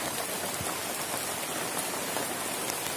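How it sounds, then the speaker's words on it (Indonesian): Steady rain falls outdoors, a dense, even hiss of drops hitting surfaces that stays constant and fairly loud throughout with no voices. "kita langsung deketin saja karena ini udah hujan ya"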